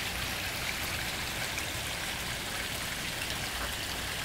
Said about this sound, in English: Has a pondless waterfall attached to it.